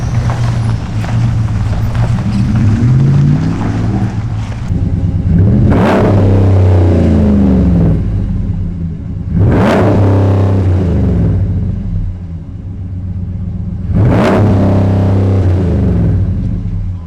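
A big V8 engine in a body-on-frame off-road vehicle rumbles with a deep burbling idle, revved sharply three times, loud and close in an enclosed garage.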